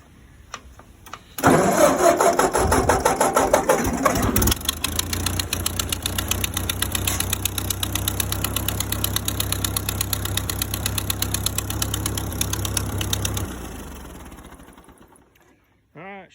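A flood-damaged Ford 8N tractor engine cranks and starts, then idles roughly with a steady, uneven low thrum for about ten seconds before shutting down and winding to near silence.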